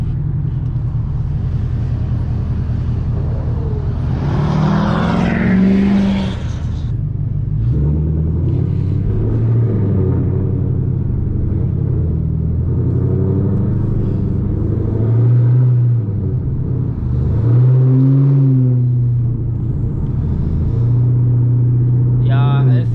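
A Chevrolet Camaro ZL1 rumbles through a night drive with the windows down, its deep engine droning and rising in several revving surges, heard from inside the car as someone talks over it.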